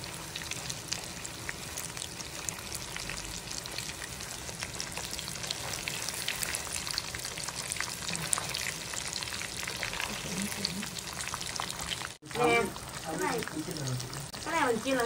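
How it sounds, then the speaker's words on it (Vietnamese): Loud, dense crackling and sizzling of food deep frying in hot oil, continuous throughout, with a brief break and some clatter near the end. "Cái này mình chiên lần hai cả nhà"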